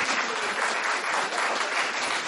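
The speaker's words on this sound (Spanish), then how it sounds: "Así que ahora el aplauso va para ustedes, este aplauso caluroso" Warm, steady applause from an audience at a youth talk on the Dominican profile, dense clapping filling the whole moment at an even level with no voices over it.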